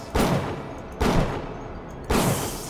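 Three loud, evenly spaced gunshots in BioShock, each a sharp blast with a short decaying tail, no talking.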